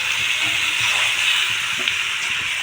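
Boiled elephant foot yam and potato going into hot masala in a pan, a steady, close hiss of sizzling with soft scattered bumps beneath.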